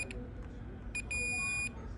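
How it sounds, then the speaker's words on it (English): A multimeter gives a single steady continuity beep, about half a second long and preceded by a couple of short blips, during repair of a Sony HDR-CX550 video camera that will not charge. A faint voice is present. "If we're not hearing a beep, then we've got an issue with one of them."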